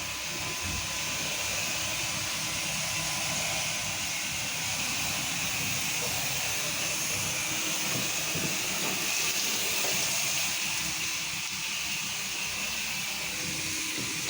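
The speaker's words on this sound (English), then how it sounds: "Hit all that with that pump up sprayer." A pump-up sprayer on a pressure-washing job sprays cleaner in a steady, continuous hiss that runs unbroken from start to finish, fairly close and with no talk.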